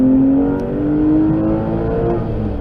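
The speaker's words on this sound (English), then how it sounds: "you can hear what it's like with the exhaust in the closed or quiet mode" A Porsche 996 engine rated around 400 flywheel horsepower revs with its Porsche Sport exhaust in quiet mode, a loud, close, smooth drone that rises and eases in pitch for about three seconds, with no talking over it.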